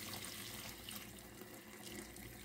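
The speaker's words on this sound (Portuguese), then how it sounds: "Vamos colocar o resto da água." Water runs steadily into a pot of saffron risotto as the rest of the cooking water goes in, a continuous faint splashing rush with no one speaking.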